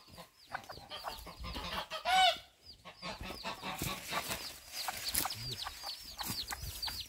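Hens clucking around a nest on a rural smallholding, a busy mix of close and farther clucks and squawks with a louder burst partway through and steady background activity.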